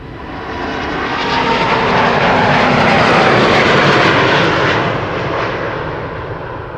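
A Finnair airliner, three years old, takes off from Amsterdam Schiphol, its engines a loud broadband roar that swells to a peak midway and then slowly fades as it climbs away.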